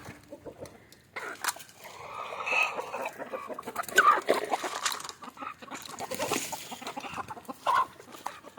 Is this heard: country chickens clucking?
yes